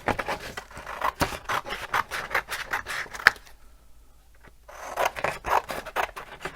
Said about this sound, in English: I just cut each strip out.